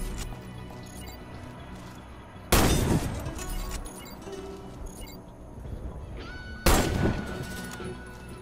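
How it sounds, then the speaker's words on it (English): Two loud, sharp sniper rifle shots in the video game Warface, each a booming crack with a ringing tail, spaced a few seconds apart over a low steady game ambience. "Hit all the targets with your sniper rifle."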